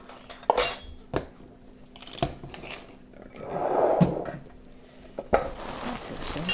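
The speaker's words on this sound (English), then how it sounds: "got some of these lids back here" Lids and kitchenware handled in a home kitchen during preparation of a cream cheese bagel spread: scattered sharp clinks and knocks, some in quick succession, with a soft rustling scrape midway and no voices.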